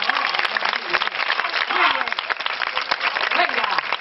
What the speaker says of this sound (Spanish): ¡Ahora sí, fuerte ese aplauso para Johnny!